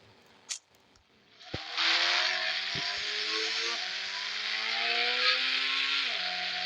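A car engine in a GTA video game starts after a few clicks and then drones loud and close, its pitch rising and stepping between gears as the car drives off.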